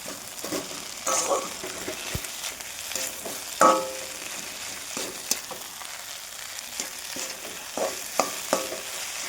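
Greens and eggplant fry in a pan with a steady low sizzle, broken by scattered scraping and clinking stirs of a utensil, fairly close and with no talking.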